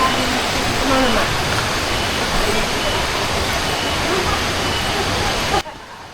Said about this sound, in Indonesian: Suara aliran air sungai juga mulai lebih terdengar dari sini.